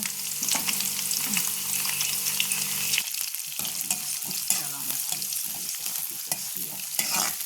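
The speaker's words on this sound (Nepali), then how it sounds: "अलि लसुन अलिक फ्राई गर्नुपर्छ। यतिको भएपछि प्याज लाउनुपर्छ।" Garlic and onion fry in a pan for homemade veg pasta, a steady close sizzle running throughout with scraping stirs and a few sharp clicks, louder and crackling in the first three seconds.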